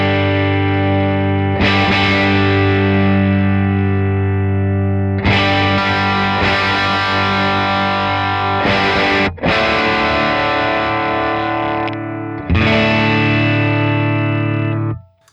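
Electric guitar through a REVV D40 amp with the mids scooped, giving a clean-to-crunchy Fender-like tone: a long run of loud, ringing strummed chords with several sharp attacks and sustained decays, close and dry.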